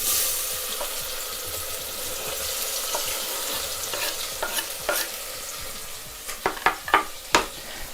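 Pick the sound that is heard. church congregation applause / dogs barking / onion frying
onion frying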